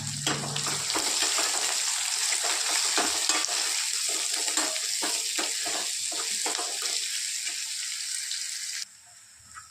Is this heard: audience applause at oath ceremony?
no